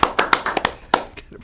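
A few scattered hand claps for a camera director, sparse and uneven, about eight claps thinning out over a second and a half, close and fairly loud.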